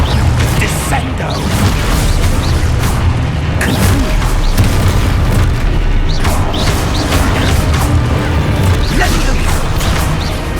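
Spell impacts crash and boom in the Hogwarts Legacy video game during combat, a dense run of loud bursts and smashes layered over continuous battle noise and music-like rumble.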